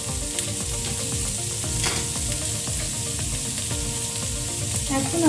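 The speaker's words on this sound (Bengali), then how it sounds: "ভেজে নিচ্ছি" Egg fried rice ingredients with sliced green chillies frying in a pan: a steady, close sizzle under sharp scraping knocks as the mix is stirred, broken by a few clinks.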